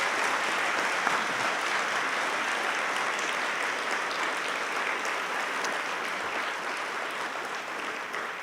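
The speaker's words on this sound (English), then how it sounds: "Round of applause for our inductees" An audience applauds inductees at an aviation hall of fame dinner and ceremony, a dense, sustained roomful of clapping that holds evenly for several seconds and tapers slightly at the end.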